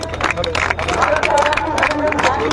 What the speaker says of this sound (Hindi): आप लोग ताली भी बजाते रहे थोड़ा थोड़ा